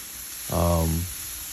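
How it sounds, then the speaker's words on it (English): Pre-cut vegetables hit a hot skillet with a short, loud burst of sizzling that swells and fades within about half a second, over a steady background hiss. "put all those processed, pre-cut vegetables into the skillet and start to heat it, stirring it occasionally"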